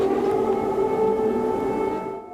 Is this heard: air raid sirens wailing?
yes